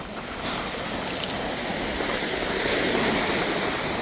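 Waves break and wash steadily onto a sandy lake shore near Thunder Bay, a continuous broad rushing surf with wind, moderately loud and without talk.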